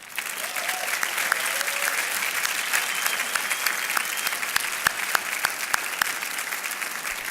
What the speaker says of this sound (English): I would like to applaud them as well